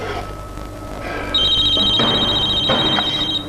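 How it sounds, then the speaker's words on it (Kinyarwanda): A telephone rings with a steady electronic trill, loud and sustained for a couple of seconds over a background of ambient noise and light movement. "Telefone ko yagamagaye."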